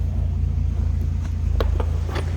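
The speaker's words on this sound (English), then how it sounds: "As you can hear, we got a little rumble coming out of that 235" A 1954 Chevrolet 210 two-door Deluxe idles with its 235 six-cylinder, a low steady exhaust rumble heard from behind the car, with a few faint knocks and clicks near the end.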